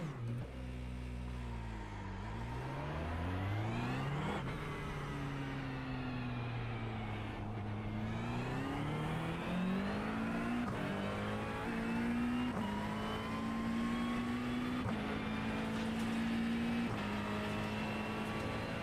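A McLaren GT3 race car engine at Spa in a racing game drones loud and close, rising in pitch through each gear and dropping briefly at the shifts, steady throughout with no talk.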